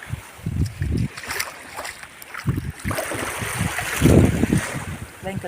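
Sea waves wash onto a beach in the morning while wind buffets the microphone, a steady roar with surging swells, fairly near and loud, with no talk over it.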